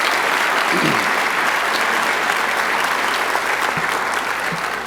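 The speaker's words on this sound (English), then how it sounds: "let's give all the teachers and staff a great round of applause for Global Learning Charter School" Audience applause for teachers and staff at the 2019 Global Learning Charter School graduation ceremony, a steady, dense wash of clapping from a large crowd, loud and continuous without talk.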